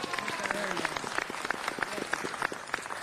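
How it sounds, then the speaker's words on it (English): Clapping from a crowd at a city council meeting honoring a festival founder, steady applause with distinct individual claps standing out, moderately quiet and mixed with some voices. "let's give her a big round of applause"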